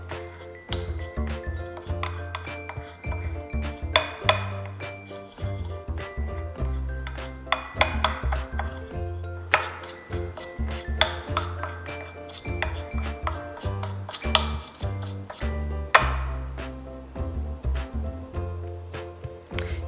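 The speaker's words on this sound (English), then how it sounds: "You will then stir until your mixture resembles a thick paste." Homemade microdermabrasion paste stirred into a thick mixture in a container, with repeated clinking and scraping strokes in an irregular rhythm, close and alone.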